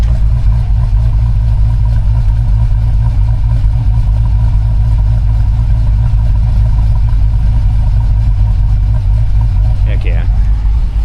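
A deep muscle-car V8 engine, a Dodge, idles steadily with a low, uneven cam-chop lope, rumbling close by and alone.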